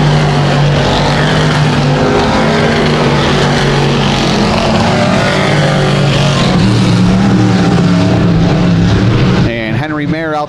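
Sportsman race cars lapping a dirt track during heats, a loud continuous engine roar with rising and falling pitch as cars circle, an announcer talking over it throughout.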